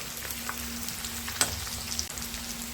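Chicken pakodi in a batter of gram flour and rice flour frying in oil, with a steady soft sizzle and a few light stirring scrapes and clicks, and no talking.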